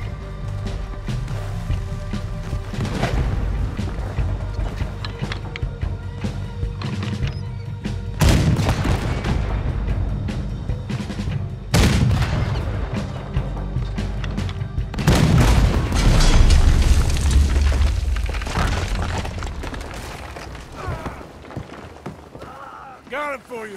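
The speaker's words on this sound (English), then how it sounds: "There's another cannon out ahead on our left." Heavy ship cannon fire from the video game Red Dead Redemption 2, with deep booming blasts near 8, 12 and 15 seconds over a rumbling battle and shouted speech throughout.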